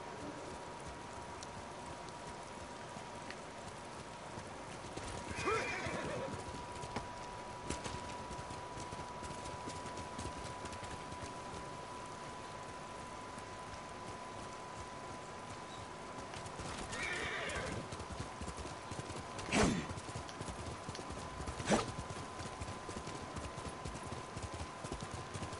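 Horse hooves clip-clop steadily over a constant tone, with a couple of whinnies breaking through, in the video game Ghost of Tsushima.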